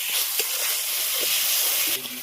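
Cumin, dried chillies and bay leaves sizzle in hot oil, making a steady close hiss with a few brief crackles.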